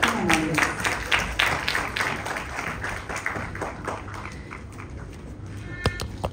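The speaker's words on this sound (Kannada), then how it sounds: "ಚಪ್ಪಾಳೆ ಸದ್ದು ಕೇಳಿಸ್ತೀರ?" Audience applause greets the arrival on stage of actor Ajay Rao at the trailer launch for the Kannada film Yuddhakaanda, a steady spread of clapping continuing under an announcer's voice.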